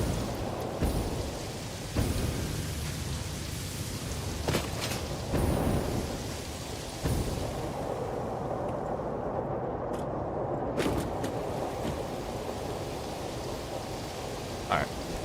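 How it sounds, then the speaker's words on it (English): Heavy rain pouring steadily in a factory-building game, a dense continuous hiss with occasional thunder-like thumps and rumbles throughout. "The rain is, like, loud as fuck."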